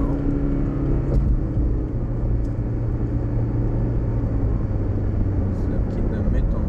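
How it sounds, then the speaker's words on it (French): Road traffic in Austin at seven in the evening, a steady loud rumble of passing cars with continuous low engine and tire noise and no clear breaks. "C'est 7 h du soir et il y a beaucoup de circulation encore."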